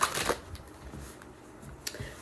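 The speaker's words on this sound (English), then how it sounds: "I'm just going to shuffle my oracle cards" A deck of oracle cards is shuffled by hand up close, with quick papery riffles and flicks in short bursts and soft pauses between them.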